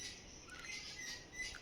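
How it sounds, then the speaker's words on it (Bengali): Birds chirp and call faintly on a cool, drizzly morning, heard from a rooftop; a few soft, brief tweets come over a quiet background. "দেখছি কিরকম পাখি ডাকছে।"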